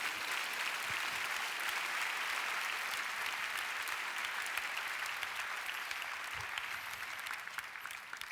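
A large crowd at a church prayer meeting claps steadily and enthusiastically to welcome a speaker, a sustained wash of applause that carries on without pause.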